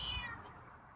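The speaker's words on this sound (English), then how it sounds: "And that's a different meow." A feral cat gives a single high-pitched meow, close and fairly clear, trailing off within a second.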